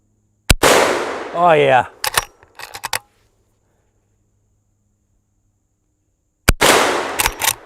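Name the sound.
Henry lever action rifle, 44 Magnum, shooting soda cans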